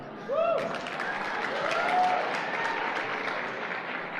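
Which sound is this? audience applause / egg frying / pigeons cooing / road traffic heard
audience applause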